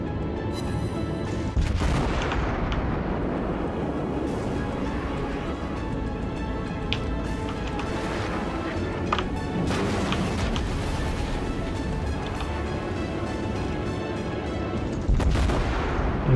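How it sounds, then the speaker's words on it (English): Heavy naval gunfire from battleships in World of Warships, with repeated loud booming cannon blasts and sharp reports over a continuous rumbling battle din, including a strong blast near the start and another near the end. "I almost just got shot by my own battleship."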